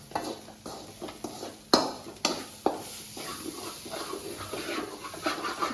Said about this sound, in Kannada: ಇದನ್ನು ಕೂಡ ಅಷ್ಟೇ ತುಂಬ ಫುಲ್ ಫ್ರೈ ಆಗಿ ಮಾಡಬೇಕು.